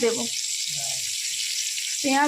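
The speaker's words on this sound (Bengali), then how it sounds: "প্রথমে কড়াইতে সর্ষের তেল গরম করে দিয়ে এই গোটা গোটা পটলগুলোকে ভাজতে দিয়েছি" Whole pointed gourds fry in hot mustard oil in a wok, giving a steady, bright sizzle throughout, with a voice heard briefly at the start and end.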